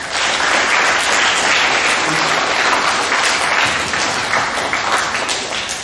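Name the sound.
applause for the kids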